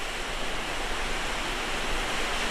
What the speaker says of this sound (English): There is 10 waterfalls in this trail.